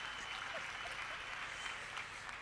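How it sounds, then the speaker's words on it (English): Faint, distant applause from an audience at a youth week launch event, a steady wash of clapping that holds evenly for a couple of seconds with no talking over it. "Let's give him a round of applause"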